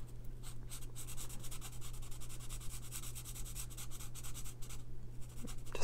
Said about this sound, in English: I'm just going to do just some real quick coloring on this